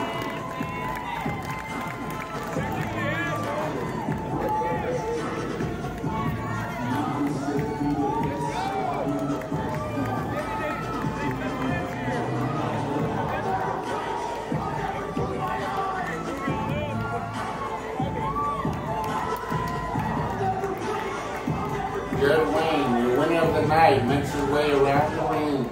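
Crowd at a Hurricane Pro Wrestling match cheering after a three count, a steady roar of voices and shouts throughout that swells louder near the end, with a commentator talking over it.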